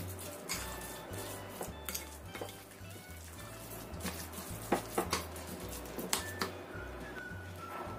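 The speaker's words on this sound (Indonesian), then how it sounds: "Kita aduk lagi sampai tercampur rata." A mixture with cornstarch for rolled eggplant being stirred in a pan, with a utensil scraping and clinking against the metal in irregular taps, close by with no talking.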